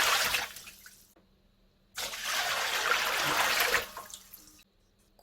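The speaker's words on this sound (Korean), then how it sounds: "물 7리터를 부어줄 거예요." Water pouring into a basin, 7 liters in bursts: a rushing splash, a pause, a longer steady pour, then tapering trickles, close with no voices.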